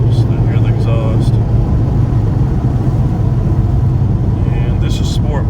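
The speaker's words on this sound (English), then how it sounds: "roll the window down a little bit, just to hear the exhaust." A Ford Mustang GT idles in Sport Plus mode, a deep steady exhaust rumble heard close and continuous, with faint light chirps now and then.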